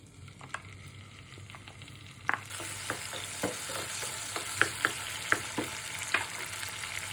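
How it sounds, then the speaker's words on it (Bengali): Chopped garlic sizzles in hot white oil as a tempering for Bengali tomato khatta, a steady frying hiss that swells partway through, with several sharp clinks of a spoon stirring the pan. "বাগার দিব, সাদা তেল দিব, রসুন কুচি দিয়ে দিব,"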